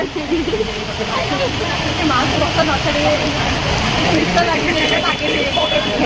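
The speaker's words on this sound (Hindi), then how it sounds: "बाड़ी केते जोरे वर्षा होची से माने खेलुछन दौड़ी" Heavy rain pours down in a steady, loud, dense hiss that never lets up, with voices talking over it.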